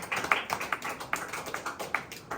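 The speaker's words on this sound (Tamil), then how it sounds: "கைத்தட்டி ஆண்டவரை மகிமைப்படுத்துவோம்" A church congregation clapping hands together, a fairly steady run of overlapping claps at a moderate distance with no voices over them.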